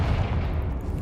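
The Confringo blast spell in the Hogwarts Legacy video game goes off as a dense, booming rumble of explosive noise, loud and sustained throughout with no clear separate strikes.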